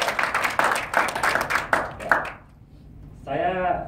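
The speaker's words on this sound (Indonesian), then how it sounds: "Jadi kita untuk itu tepuk tangan dong." Audience at a meeting clapping in quick, fairly close rhythmic claps that fade out after a couple of seconds, followed by a voice speaking.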